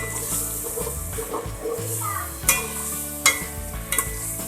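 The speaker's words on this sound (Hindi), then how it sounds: "अब हम इसमें प्याज ऐड करेंगे, इसको भूनेंगे, लाइट ब्राउन तक पकाएंगे" Onions frying in a pan with ginger, garlic and green chili paste for a Punjabi aloo matar chicken, a steady close sizzle with stirring scrapes and a few sharp utensil knocks against the pan.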